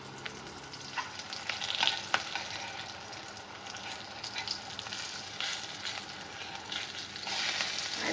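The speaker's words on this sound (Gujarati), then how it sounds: "હું બટર નાઇફની મદદથી આ રીતે મરચાંને ફેરવીશ" Stuffed green chillies fry in a pan as a butter knife turns them, giving a steady close sizzle with scattered scraping and clinking touches, no voices.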